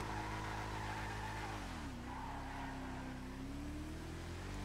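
A video game car's engine holds a steady loud drone, then the pitch sags and climbs again as the tires squeal and skid through a turn, with no talk over it.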